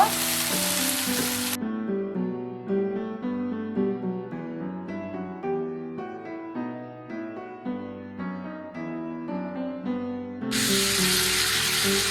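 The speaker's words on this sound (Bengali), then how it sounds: "সব কিছু আমি একটু 1 মিনিটের মতো একটু ভেজে নিব।" Onion paste with garlic and ginger paste frying in a pan makes a loud, bright hiss at the start and again at the end. Between those bursts, only music is heard.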